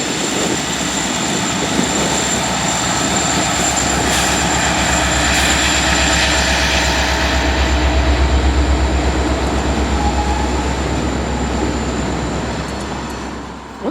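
A local freight train led by an SC60E locomotive rolls past with a loud, steady rumble and broad roar that holds for the whole stretch, swelling slightly as the cars go by before easing off at the end.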